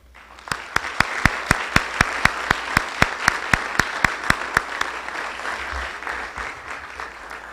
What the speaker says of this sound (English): we should recognize them with a round of applause as well.